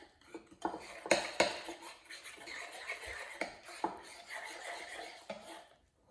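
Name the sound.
stirring banana bread batter with flour mixture in a bowl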